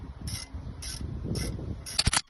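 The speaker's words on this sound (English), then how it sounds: "Putting the caliper bolts back in." A ratchet clicks through repeated strokes while tightening the brake caliper bolts on an Audi A3, with four close, evenly spaced bursts of ratcheting that end in a quicker, louder flurry of clicks.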